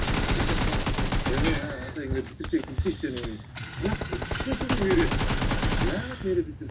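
Bursts of automatic gunfire from the battle royale game PUBG rattle in rapid strings almost throughout, loud and close, while someone talks over the shooting.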